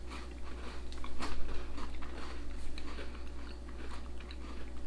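Someone bites into and chews a dunked chocolate-covered biscuit, with soft, close crunching and mouth sounds over a low steady hum.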